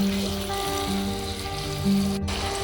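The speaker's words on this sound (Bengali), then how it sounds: "এই সময় কিন্তু গ্যাসের ফ্লেমটা জোর রাখবেন আর জোর অবস্থাতেই আমি চিকেনটাকে অনবরত নাড়তে থাকবো" Chicken frying with onion and oil in a pan over a high gas flame gives a steady sizzle under tonal kitchen hum, stirred continuously, with a brief louder hiss near the end.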